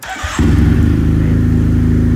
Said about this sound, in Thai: เดี๋ยวสตาร์ได้ฟังเสียงเครื่องยนต์